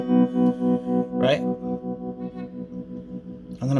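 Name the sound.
guitar amp tremolo effect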